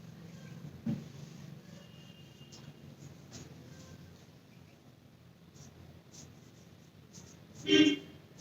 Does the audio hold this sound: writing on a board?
yes